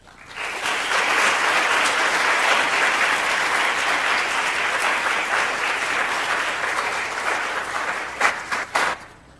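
Sustained applause from a lecture audience welcoming a speaker to a human rights lecture, a dense steady wash of many clapping hands that thins out near the end with a few scattered claps.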